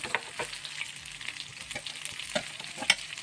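Isuka Donthulu fish fry in hot oil with a gentle sizzle, broken by light clinks and taps of a utensil turning and lifting the pieces, near and fairly quiet with no talking.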